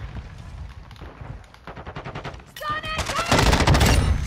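Video game gunfight with rapid bursts of gunfire that grow louder and denser toward the end, with a player's voice mixed in.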